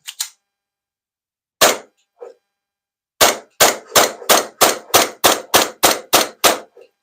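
An airsoft gun is test-fired at an outdoor range, giving sharp, close snapping shots: a few scattered shots, then a quick regular string of about ten in a row, with near silence between them.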